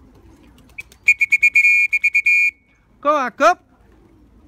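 Pigeons coo once or twice, close by, right after a quick run of high whistled or chirping notes, and a voice briefly speaks.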